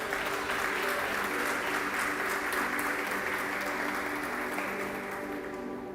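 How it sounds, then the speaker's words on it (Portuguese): Steady, dense applause from a church congregation fills the room for several seconds, broad and sustained, easing slightly toward the end, with faint voices beneath it. "Você pode aplaudir a Ele nessa noite?"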